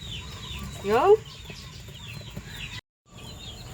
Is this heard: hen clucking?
yes